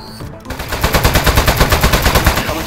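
In the video game Aperture Desk Job, weapon fire sounds as a loud, rapid automatic burst of evenly spaced shots following a brief quiet lead-in, with no talking over it.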